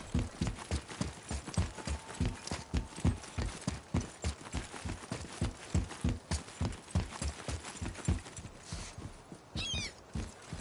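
A horse's hooves clip-clopping at a brisk, even rhythm in the video game God of War, close and regular for the whole stretch, no talking.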